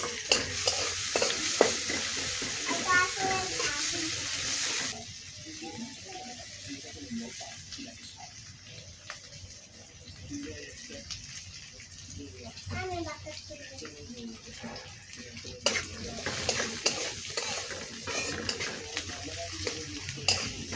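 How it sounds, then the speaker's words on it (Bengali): Chopped onions and green chillies sizzle in a pan of hot oil while being stirred, with scraping and clinking from the utensil, in a village kitchen. The steady frying hiss is heard under a speaking voice, near and moderately loud. "এবার সুন্দর করে পেঁয়াজ ভেজে নেব"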